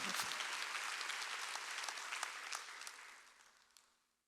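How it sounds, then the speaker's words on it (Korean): A church congregation applauds during a Wednesday worship sermon, a dense wash of many clapping hands that starts loud and gradually thins and fades toward the end, with no talk over it. "박수야."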